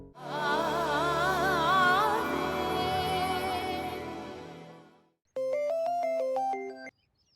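A phone rings with a melodic electronic ringtone, loud and near, playing in two bursts separated by a brief pause before falling silent.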